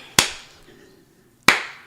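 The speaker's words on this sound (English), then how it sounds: "Hold on, I got to do a slow clap." Two sharp, loud single hand claps spaced over a second apart, each ringing briefly into silence, forming a deliberate slow clap.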